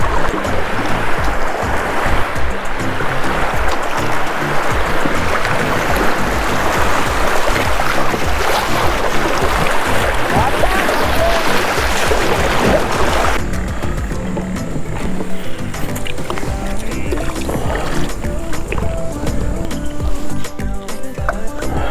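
Rushing whitewater and splashing as a kayak runs river rapids on a fall fishing trip, loud and continuous close to the water.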